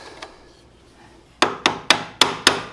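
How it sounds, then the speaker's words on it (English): A flathead screwdriver working a part loose on a Honda CB900F motorcycle during a clutch replacement, five sharp, evenly spaced metallic knocks close by after a quiet lead-in. "Use a flathead screwdriver kind of right in the back of this."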